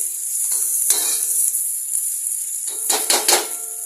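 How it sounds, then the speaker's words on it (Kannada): Medium-cut onions fry in a pan with a bright, continuous sizzle, broken by a few short bursts of stirring and utensil scrapes, close and fairly loud, with no talk. "ಸ್ವಲ್ಪ ಫ್ರೈ ಆಗಲಿ ಈರುಳ್ಳಿ"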